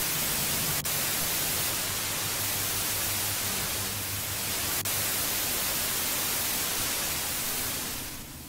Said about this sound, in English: Wow, that TV is super loud.